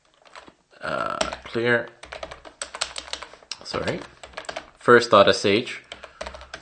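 Quick bursts of typing on a computer keyboard as commands are entered, close and clearly audible, with a person talking over and between the keystrokes.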